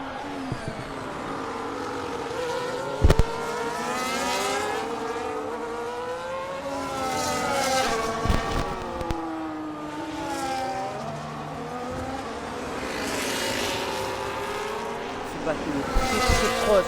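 Single-seater race cars on the last lap of a race, engines whining and shifting pitch as they pass close together, continuous and loud under an excited commentator.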